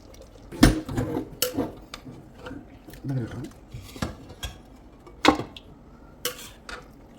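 Mutton curry is scooped from a pressure cooker into a serving bowl with a metal spoon, giving scattered clinks and scrapes of utensil on metal, a few louder knocks amid quieter stirring sounds.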